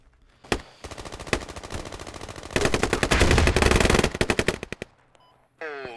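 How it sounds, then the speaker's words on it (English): Automatic gunfire crackles in a squad-based military shooter, starting with scattered single shots, then swelling into dense sustained bursts before thinning out into a few final cracks, loud and close. "shots coming in through the gap, 60 degrees"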